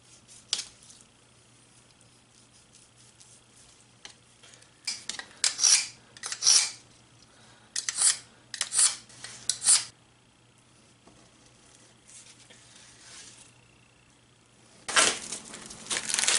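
A knife slices through partially frozen beef for jerky, producing several bursts of scraping, rasping cuts separated by quiet stretches.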